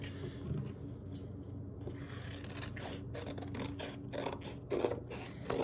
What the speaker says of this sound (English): So the first thing is I'm gonna cut out my photos.